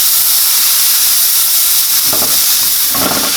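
A burger patty is smashed onto a hot griddle with a heavy spatula, setting off a loud, continuous sizzle with hissing steam, punctuated by two brief scraping bursts near the end.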